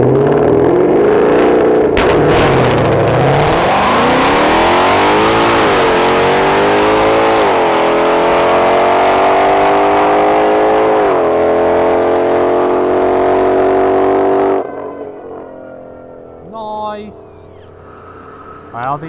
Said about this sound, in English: Coop's first run in the GT5 Honey